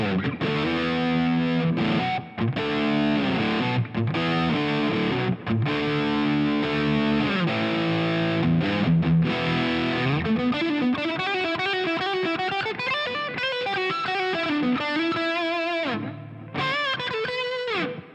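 BC Rich Legacy B electric guitar played straight into the amp with no pedals, loud distorted chords in a choppy rhythm with short gaps, then shifting into sliding single-note riffs and a closing chord burst.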